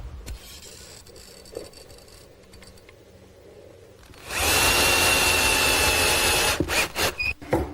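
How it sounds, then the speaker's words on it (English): A power tool drives screws into plywood pieces during furniture building, a loud sustained whirring burst that starts midway after a quieter stretch and then breaks into short stuttering pulses near the end. "A little glue and screws will hold them in place."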